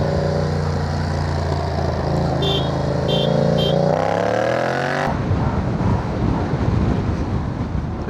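A Yamaha TMax 560 scooter accelerates away, its engine note rising in pitch through the first half, then giving way to loud rushing wind and road noise as it rides on.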